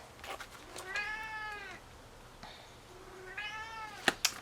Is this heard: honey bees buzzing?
no